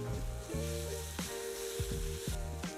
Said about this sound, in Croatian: Na samom početku dodat ćemo malu količinu ulja i na njega ćemo dodati luk.